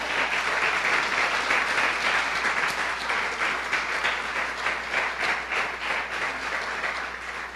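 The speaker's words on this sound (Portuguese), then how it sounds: "Dê uma salva de palmas a Ele." A church congregation gives a round of applause during a service, sustained crowded clapping that stays strong and gradually eases toward the end, no talking over it.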